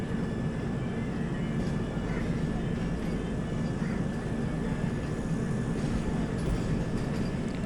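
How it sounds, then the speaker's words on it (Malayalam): An orange Vande Bharat train runs on an Indian railway main line, making a steady, loud, close rumbling roar that holds evenly throughout with no pauses. "ഇതൊരു ഓറഞ്ച് കളർ വന്ദേ ഭാരതാണ്"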